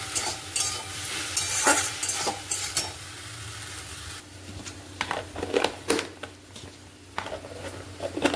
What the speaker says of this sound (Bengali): আর এই যে এখানে কলমির শাকটা ভাজছি।